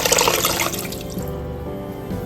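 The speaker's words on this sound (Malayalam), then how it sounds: "അത് വെള്ളം ഒഴിച്ച് കവർ ചെയ്യാം കേട്ടോ" Water is poured over pieces of buffalo meat in a pot, a steady splashing, gushing stream that is loudest at first and then settles into a softer, continuous trickle, heard alone.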